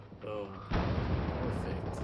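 A gun fires in Wolfenstein 2 The New Colossus, one sudden loud blast that rumbles and rolls on over gameplay noise with a voice talking over it.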